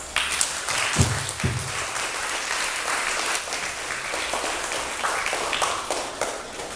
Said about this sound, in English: you deserve, parents, a round of applause